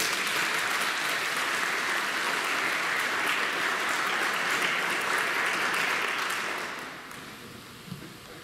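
A church congregation at an Easter Vigil Mass breaks into sustained, full-room applause that holds steady for several seconds, then tapers off and fades toward the end.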